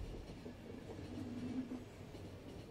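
Train rolling along rails in The Final Station video game, a steady low rumble with faint clickety-clack and a brief mid-pitched hum, continuous and moderately quiet throughout.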